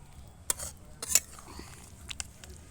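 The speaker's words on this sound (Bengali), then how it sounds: "এখন এটা আমি নাড়াচাড়া দিয়ে মিশিয়ে দিয়ে তারপরে একটা পাত্রের মধ্যে ঢেলে ঢেকে দেবো" Spiced meat is stirred in a pot, with a few sharp metallic clinks and scrapes of the spoon against the metal over a faint low background.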